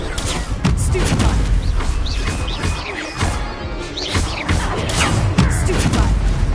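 Confringo and Stupefy spells cast in Hogwarts Legacy crackle and burst as loud, dense magical blasts and crashes, with repeated sharp impacts packed together across several seconds.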